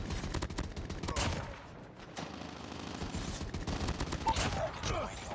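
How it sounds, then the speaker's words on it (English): Rapid automatic gunfire from a sentry gun in Call of Duty Mobile, a dense, continuous loud burst of shots with sharp cracks throughout. "Hostile sentry gun in your AO."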